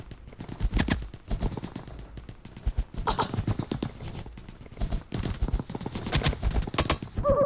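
Rapid bursts of automatic gunfire from the mobile battle-royale game PUBG Mobile rattle out in dense, loud volleys with brief gaps and a few single shots.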